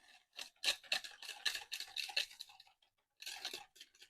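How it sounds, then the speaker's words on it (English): Butter and brown sugar being whisked together in a bowl, with quiet quick scraping and tapping strokes in bursts, a short pause, then more whisking. "1 stick of butter or half a cup of butter and 1 cup of brown sugar. We're going to mix it together. Just kind of whisk it."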